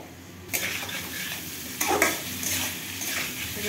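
Potatoes frying in a pan for Bengali alu posto, a steady sizzle of hot oil with scraping stirs of a spatula against the pan, close and fairly loud, no talking.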